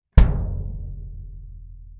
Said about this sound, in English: Have you ever gone to hit your kick drum and it sounds something like this?